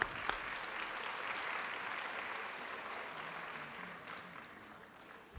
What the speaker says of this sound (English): A round of applause for Mr. Garcia as well.